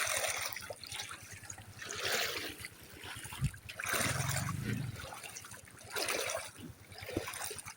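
Shallow water trickles and gurgles over rocks in the Sampaloc river, a close, uneven babble with irregular splashes and swells throughout.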